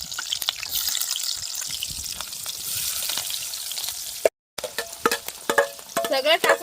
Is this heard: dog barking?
no